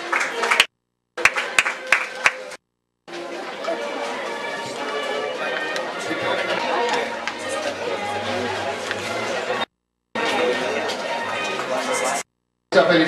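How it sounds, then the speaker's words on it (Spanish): Applause from a crowd at a ninth-grade graduation, sustained clapping broken by short silent gaps, with talk mixed in at moments. "Fuerte aplauso"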